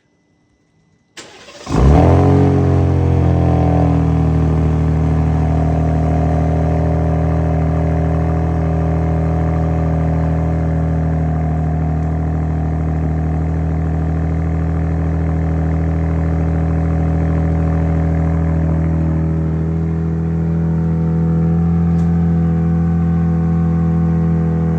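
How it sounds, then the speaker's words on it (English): A Ram truck's 5.7-liter HEMI RHO V8 starts with a sharp catch, then settles into a loud, steady, close-up idle with a buzzy, droning exhaust note that holds for more than twenty seconds, with no talking. "The exhaust note kind of sucks."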